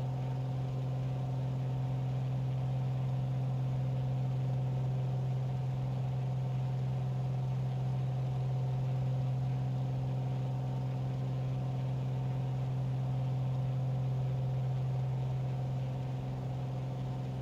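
Bonanza aircraft piston engine in Microsoft Flight Simulator 2020, a steady droning hum with a strong low tone, holding an even pitch throughout, loud and uninterrupted with no speech.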